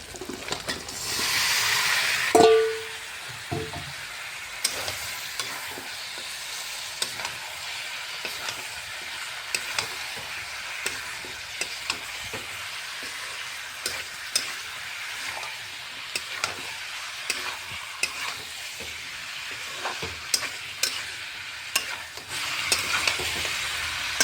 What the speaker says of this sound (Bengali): মাংসটা ঢালিয়ে দেবো।